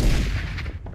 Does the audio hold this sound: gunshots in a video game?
yes